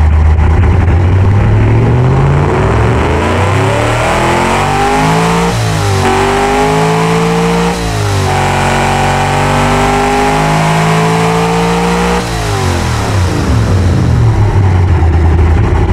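Huge engine fed by a single-barrel carburetor in the Automation car game, revving loudly in repeated rising and falling sweeps, a deep harmonic drone rising to high pitch then dropping, continuous and close with no voices.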